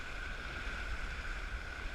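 Class 2 river rapids rushing around a raft, a steady broadband wash of moving water with constant hiss and low rumble, continuous and fairly even throughout without talk.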